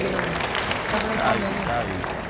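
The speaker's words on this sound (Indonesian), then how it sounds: "Tepuk tangan untuk dia." An audience at an official welcoming speech in Indonesia applauds a guest in a steady, dense patter of clapping that holds at even strength throughout.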